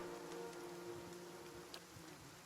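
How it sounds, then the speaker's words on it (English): Flies buzzing around a tree in the Pillars of Eternity video game, a faint continuous insect drone with a steady hum and no speech. "The only answer you hear is the buzzing of flies from the tree."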